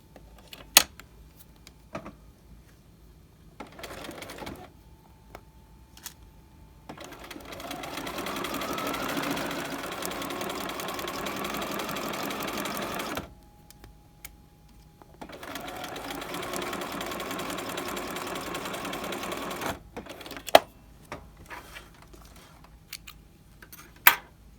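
A sewing machine runs in two sustained bursts of steady stitching along a horsehair braid hem, set between quieter pauses with small clicks and handling knocks.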